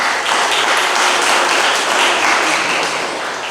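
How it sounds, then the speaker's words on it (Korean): A wedding audience claps for the groom's father in a hall, a dense, steady round of applause lasting the whole stretch with no voices over it. "아버님께 다시 한번 큰 박수 부탁드리겠습니다"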